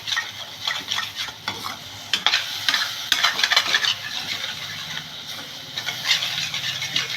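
A spatula scrapes egg curry with tomato off a stuck pan bottom, making repeated rough, uneven scraping strokes over a low sizzle, close and clear.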